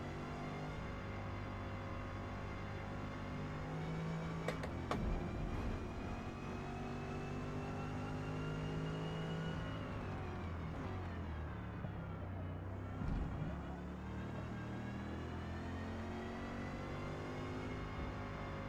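V8 race car engine from Forza Motorsport on the final lap at a circuit with a carousel, a steady loud droning whine rising and falling through gear changes and corners, with no talk.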